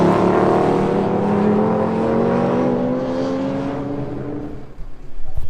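A Cobra race car on the Tour Auto roars past close by, engine tone loud and sliding downward as it goes away, then fading, with another engine rising at the end.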